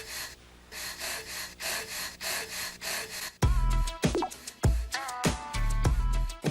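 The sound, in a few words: breathing sounds at the start of a song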